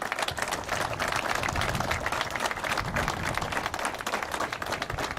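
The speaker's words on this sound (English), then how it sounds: "let's give them a great round of applause" A large audience gives a sustained, dense round of applause at a Suffolk County clean water funding announcement with Governor Cuomo, steady and loud across five seconds.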